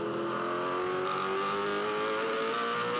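A V8 Supercar at the 2006 Sandown 500 holds a steady, high-pitched engine drone that rises slightly in pitch over three seconds. It sounds like a continuous race-car roar with no talking.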